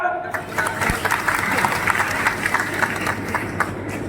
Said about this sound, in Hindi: अगर सही है तो ताली बजाओ।